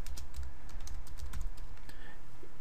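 A computer keyboard is typed on in a quick, steady run of close, crisp key clicks, used to enter a search into a web tool. No one speaks.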